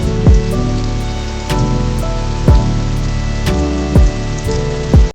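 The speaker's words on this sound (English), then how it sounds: "Rain is not a possibility, it's a certainty." Heavy rain pours steadily in coastal temperate rainforest, a loud, dense hiss. Sharp knocking impacts land roughly once a second over it, and nobody speaks.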